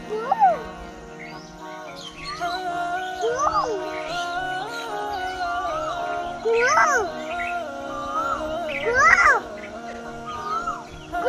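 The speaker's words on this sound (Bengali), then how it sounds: "আসলে ও পাখিটা কুকু করছে" Short cooing bird calls rise and fall repeatedly, mixed with a child's babble and excited chatter nearby.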